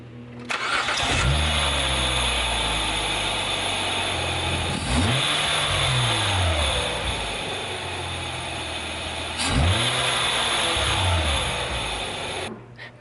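A Hyundai Tiburon fitted with a new aftermarket air intake cranks and starts, then idles and is revved twice in sharp, rising bursts that settle back down, close and loud with no talking.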